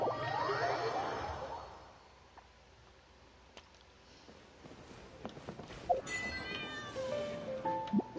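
Several cats meow and caterwaul in the Cat's Tail, a cat café setting in a video game, with a swooshing sweep at the start and then a string of clear, fairly close meows scattered over quiet ambience.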